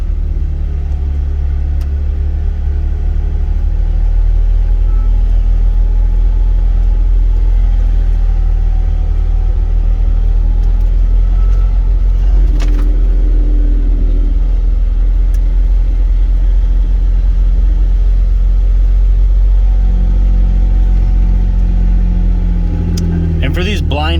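A Jeep rolls along off-road trails at night with a continuous low engine rumble and heavy road noise, steady and close throughout, with faint creaks and bumps over the ground.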